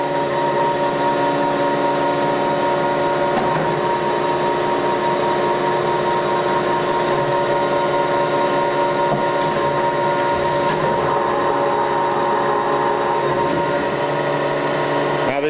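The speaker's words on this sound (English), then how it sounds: "Cycle start, and the machine is in operation mode." A Cincinnati HyPowermatic horizontal bed-type production mill runs through its cycle with a constant loud, layered mechanical whine and hum, broken by a few faint clicks and knocks.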